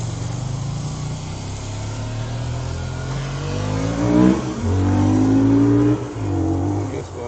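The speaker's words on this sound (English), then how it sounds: "he's on a motorcycle" A motorcycle engine revs up and passes by, rising in pitch and swelling loud before fading, heard outdoors with a low steady rumble underneath.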